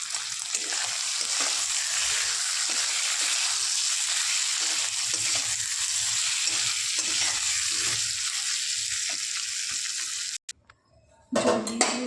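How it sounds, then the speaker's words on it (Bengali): Water is poured into spice masala frying for a fish curry, setting off a loud, steady sizzle and hiss that runs unbroken until an abrupt cut near the end, followed by a brief clatter. "এবার জল দিয়ে দেবো।"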